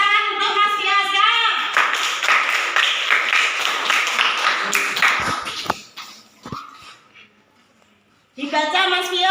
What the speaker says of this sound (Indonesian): Ayo tepuk tangan untuk Mas Kiasa.